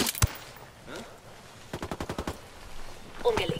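Rapid bursts of automatic gunfire in the shooter game Ghost Recon: Wildlands, a quick string of close, punchy shots after a few isolated reports, with faint voices in the background.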